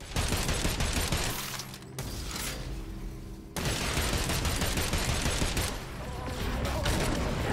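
Rapid, loud bursts of automatic gunfire in a video game, with sustained volleys broken by a brief pause and mechanical clanks, continuous and close.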